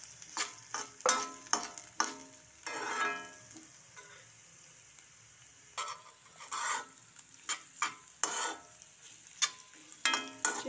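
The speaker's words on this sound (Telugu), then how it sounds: "మనం ఉడకబెట్టుకున్న బీట్రూట్ ముక్కలు ఉన్నాయి కదా, అవి వేసేసుకుందాం. వేసేసుకుని 1 నిమిషం కలుపుకుందాం." Boiled beetroot pieces fry in a pan, with a soft sizzle under repeated bursts of scraping as they are stirred, close and moderately loud, with brief quiet pauses between strokes.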